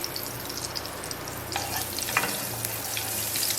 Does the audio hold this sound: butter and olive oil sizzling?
yes